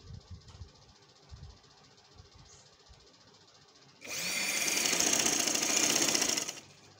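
A sewing machine stitches dori piping onto a kameez in one continuous run of about two and a half seconds, following quiet handling sounds.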